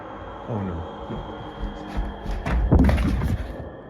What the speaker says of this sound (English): a loud thud sounds from the next room